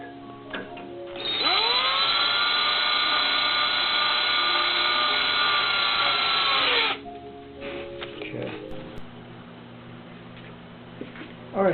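A power drill drives screws into a telescope ring seal support, one sustained whine that spins up, holds for about six seconds, then winds down, followed by quieter clicks and handling.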